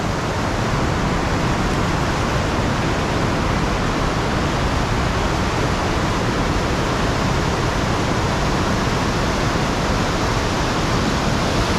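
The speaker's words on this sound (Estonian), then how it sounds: "Vesi on praegu hästi kõrge ja tugeva vooluga." High, fast-flowing river water rushes below a weir in a loud, steady, unbroken roar that fills the whole clip with no voices.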